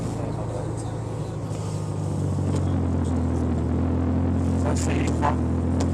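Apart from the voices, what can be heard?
Ferrari Mondial engine running during a ride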